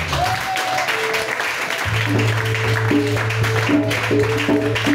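A church congregation claps steadily through a worship service, the dense applause continuing throughout over sustained keyboard or organ tones.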